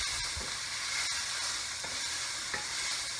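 Vegetables sizzle and hiss steadily in a hot pan while being stir-fried for a peanut stir-fry, with occasional scraping clicks as they are stirred around.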